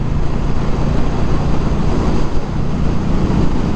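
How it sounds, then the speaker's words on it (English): Steady, loud wind roar buffets the rider of a 2020 Indian Scout Bobber Twenty cruiser without a windshield at highway speed, a continuous broadband rush with no voices. "at high speeds, the wind's not too bad here"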